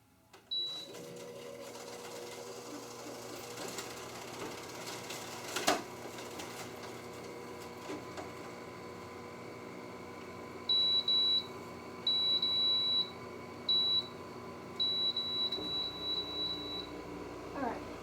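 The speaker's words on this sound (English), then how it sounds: "I have a little air conditioner in here. Just kind of get that going." A small room air conditioner running in a kitchen, giving a steady mechanical hum throughout, with a few short electronic beeps near the end.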